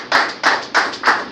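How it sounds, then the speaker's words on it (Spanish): A church congregation claps together during an evening service, four sharp, evenly spaced bursts of clapping that ring out loud and close, with no one talking over them. "Un aplauso a Dios en esta hora de la noche"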